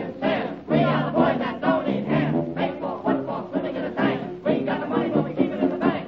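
A group of voices cheers together in a 1931 Gene Kardos orchestra dance-band recording, a steady, lively shout that fills the whole stretch with rhythmic bursts.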